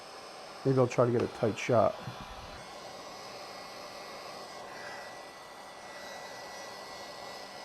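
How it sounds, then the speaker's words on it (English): A heat gun fuses encaustic wax paint, giving a steady, airy blowing hiss that runs evenly to the end after a brief stretch of talking at the start. "now I can fuse that in again with the heat gun"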